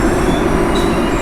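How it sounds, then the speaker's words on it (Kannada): The KSR Bengaluru–Shivamogga Indian Railways train rolls past a station platform in a loud, continuous rumble of wheels and carriages, heard close by. "ಶಿವಮೊಗ್ಗ ಟ್ರೈನ್ ಪಾಸ್ ಆಗ್ತಾಯಿದೆ ಆ ಕಡೆ ಪ್ಲ್ಯಾಟ್ಫಾರ್ಮಲ್ಲಿ"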